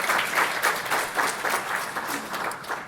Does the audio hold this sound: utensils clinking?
no